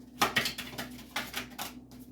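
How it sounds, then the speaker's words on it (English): Quick bursts of a deck of cards being shuffled, riffling flutters and soft taps, several in a row with brief pauses, close by and fairly quiet. "Two more shuffles and I'll pull from the top."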